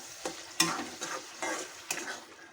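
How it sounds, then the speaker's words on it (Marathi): Masala fries in hot oil for a dried Bombay duck and potato curry, with a soft sizzle under several quick scraping stirs of a spoon, close and fairly quiet. "मसाला चांगला परतून घ्यायचा आधी तेल सुटेपर्यंत चार ते पाच मिनटं मसाला चांगला परतून घ्यायचा"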